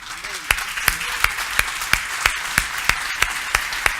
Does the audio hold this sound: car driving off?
no